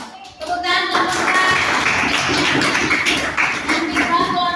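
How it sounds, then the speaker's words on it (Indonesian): Group of schoolchildren clapping their hands in a classroom, a loud, dense burst of quick overlapping claps that begins after a short pause and keeps going, with a voice briefly heard at the start. "Tepuk tangan kelompok"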